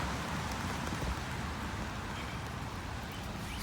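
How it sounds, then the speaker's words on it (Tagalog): Steady rain falls in a residential community on a walk home after work, a dense even hiss with faint traffic underneath and no voices. "ulan"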